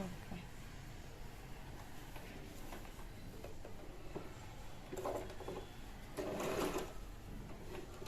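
An Usha Janome electric sewing machine stitches cloth, a soft steady mechanical whir with brief louder bursts near the end, fairly quiet and under low room noise.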